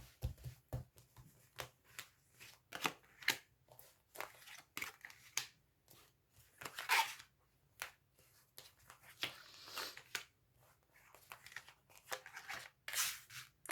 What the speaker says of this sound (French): je vais étaler les cartes